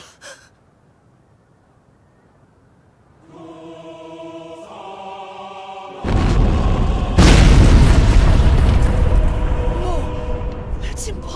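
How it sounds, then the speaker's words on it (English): A loud, deep boom from an explosion at a huge 50-meter wall in an Attack on Titan scene bursts in midway and rumbles on, swelling again into a sustained roar. It is layered over music and gasps. "Some kind of explosion"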